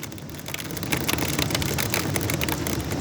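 Hail patters hard and continuously against a window during a strong thunderstorm with a wall cloud nearby, a dense, close, steady clatter with no voices.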